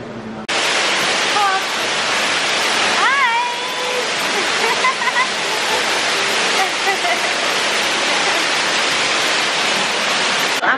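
An indoor waterfall at the North Carolina Aquarium roars as a loud, constant rush of falling water, with faint voices and brief bird-like chirps over it.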